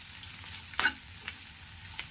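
Onions frying in a pan for tamarind rasam: steady close sizzle with a couple of brief scrapes from stirring, one louder than the rest, and no talking.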